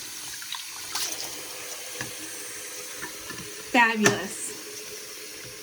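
Hot water runs from a newly installed Delta Flynn bathroom sink faucet, a steady soft hiss with a brief louder gurgle and spurt partway through as air clears the lines; someone speaks briefly.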